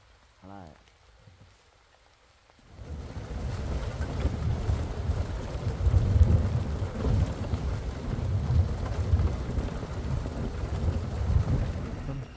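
Rain begins during a jeep safari in Jim Corbett National Park: after a quiet start with a brief voice, a dense, steady downpour patter rises abruptly and continues loudly, with a low rumble beneath.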